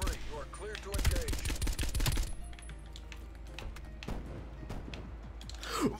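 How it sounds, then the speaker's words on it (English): Type 63 rifle fire in Black Ops Cold War: a rapid burst of close, sharp shots, then a few scattered single shots and mechanical clicks, with another brief flurry at the end. "What is this gun? Oh, the Type 63?"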